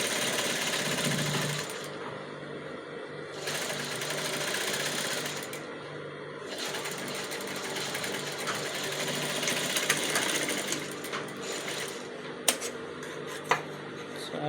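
A sewing machine stitches blouse panels together with a loud, steady whirring drone that stops and restarts several times, with a few sharp clicks and knocks near the end.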